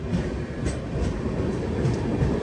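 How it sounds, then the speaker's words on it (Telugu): A goods train rolls past near Gwalior Junction, its continuous rumbling clatter loud and close, steady for the whole stretch. "అరే ఇటు సైడ్ గూడ్స్ ట్రైన్ వచ్చింది"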